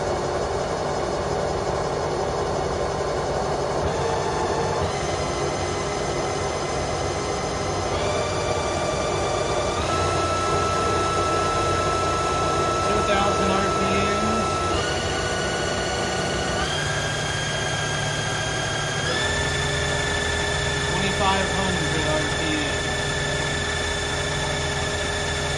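A 2005 Haas SL10 CNC lathe spindle spins up and runs at around 1,000 RPM, a loud continuous machine hum with whining tones that step upward in several distinct stages.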